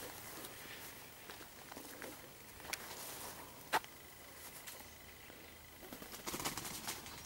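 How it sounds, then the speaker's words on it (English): Pigeons flap up and away outdoors during an early June countryside walk, a few brief wingbeat bursts and footsteps over quiet ambient background with faint birdsong. "Oh, pigeons, startled."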